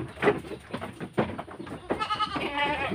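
Goats bleat beside a goat pen, several wavering calls nearby in quick succession, some overlapping toward the end.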